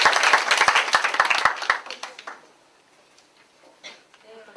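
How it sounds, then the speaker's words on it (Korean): Audience applause at a youth debate contest in Gwangyang, a dense burst of clapping that fades away after about two seconds, leaving a quiet room with faint scattered noises. "많은 박수 쳐주세요."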